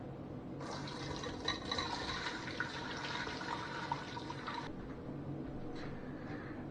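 Homemade dandelion wine poured steadily into a container, a continuous close splashing liquid stream lasting several seconds before it stops, followed by faint handling sounds.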